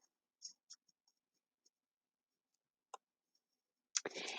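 Several sharp, quiet clicks of a computer mouse, spaced irregularly and close by, with a brief burst of rustling noise at the end.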